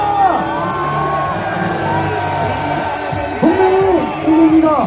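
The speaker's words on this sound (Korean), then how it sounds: "마지막으로 가장 큰 함성과 박수를" A large outdoor crowd roars and whoops loudly at Lee Jae-myung's 2025 presidential campaign launch rally at Gwanghwamun's Cheonggye Plaza, Seoul, with shouts, yells and applause rising in waves and swelling near the end.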